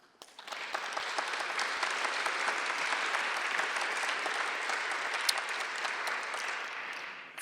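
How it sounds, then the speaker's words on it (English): An audience at the opening of an Ellsworth Kelly black-and-white art exhibition gives a steady round of applause, dense clapping swelling quickly and holding for several seconds before tapering off. "So I would really like to have a great round of applause for Ulrich for giving us the gift of this brilliant exhibition."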